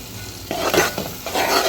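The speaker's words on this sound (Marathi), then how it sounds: "याला छान परतून द्यायचं आहे दोन मिनटं आणि याच्यामध्ये आता थोडीशी कोथिंबीर टाकून द्यायची आहे" Masala sautéing in oil with chopped coriander for dhaba-style chole, a close sizzle broken by several scraping stirs of a spoon against the pan over under two seconds, with no talk.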